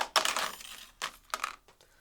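Die-cut cardstock pieces for a craft kit are sorted into a pile, giving a few quick papery rustles and light clattering bursts with short pauses between them, close and fairly quiet.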